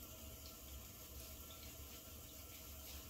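Tap water runs steadily into a sink during a shave, a continuous close splashing flow with no break and no talking.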